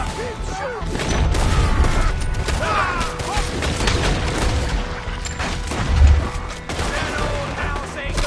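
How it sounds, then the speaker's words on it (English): Video game gunfire in a shootout near an old house: a dense, continuous rattle of shots with heavier booms and a loud thump near the end, while in-game voices shout over the fire. "Just keep shooting!"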